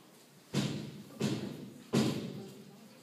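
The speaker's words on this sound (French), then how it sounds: "quelqu'un frappa à la porte" Three heavy knocks on a door, each a dull booming thud spaced about two-thirds of a second apart, close and clear with a short decay after each.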